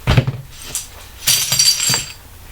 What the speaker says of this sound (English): you take a hammer, put it on a hard surface, and just smash them